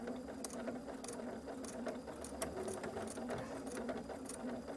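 A sewing machine back stitching the seam of a fabric drawstring bag made from ten-inch squares, with a fast, even mechanical whirring and rhythmic needle clatter running steadily up close, no voices.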